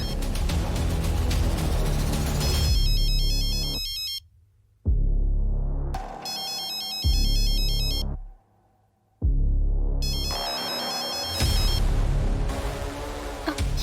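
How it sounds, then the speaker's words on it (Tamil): A mobile phone ringtone rings inside a house, repeating an electronic melody in loud bursts separated by brief silent gaps, with no one talking. "உள்ள இருந்து ஃபோன் சவுண்ட் கேக்குது"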